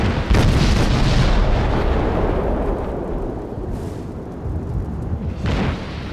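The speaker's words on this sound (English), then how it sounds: "Yeah, these torpedoes are gonna hit." Torpedoes strike a ship in World of Warships, a loud, close, rumbling explosion that rolls on and fades slowly, with a second, smaller burst near the end and no talking.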